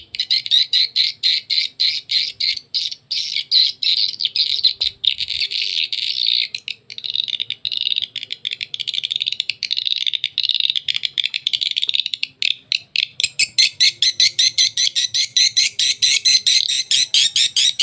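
A swiftlet lure call recording, Hexa Rajawali, plays as a loud, rapid train of shrill, chirping squawks that pulses in quick repeated bursts throughout, steady and close with no talk.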